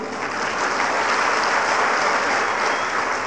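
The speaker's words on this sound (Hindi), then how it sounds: "आपकी तालियों ने मेरा हौसला बढ़ाया है" Loud, sustained applause from a large crowd at a BJP event for PGI Hospital in Una, a dense, even roar of clapping with no break.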